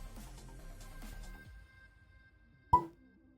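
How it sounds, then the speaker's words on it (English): An artificial cork pulls out of a bottle of Forty Creek whisky with a single sharp pop near the end, after a quiet stretch with some low rustling. "Oh, it's an artificial cork."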